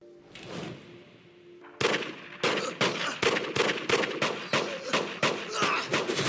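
Gunfire from the action film Headshot, a low rumble giving way to a rapid series of sharp, loud shots fired in quick bursts.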